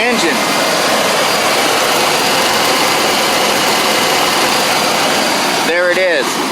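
A Tonawanda engine idles close by with a steady, even rumble that holds for the whole stretch, and a brief voice or shift in sound comes through near the end.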